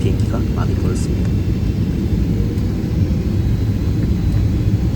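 An airplane landing at Heathrow airport produces a loud, steady rumble and broadband roar throughout, heard from inside the cabin with no distinct events.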